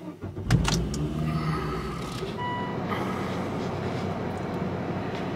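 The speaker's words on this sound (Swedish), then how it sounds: "Så, då har vi startat bilen här då." A Volvo V70 engine cranks and catches, then settles into a steady idle close by, with a few warning beeps and chimes sounding over the running engine.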